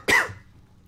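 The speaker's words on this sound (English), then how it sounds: "I probably didn't need to cough directly into the mic." A single sharp, close cough bursts out loudly, then quickly fades into quiet room tone.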